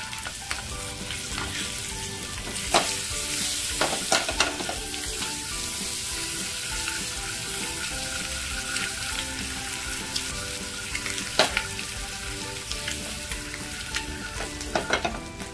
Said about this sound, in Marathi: बघा आपल्या अंडी पण छान फ्राय होत आहेत